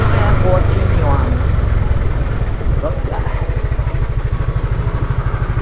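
Motorcycle engine idling and putting along as the bike is parked, a steady low rhythmic chug throughout with some clatter, and people talking over it.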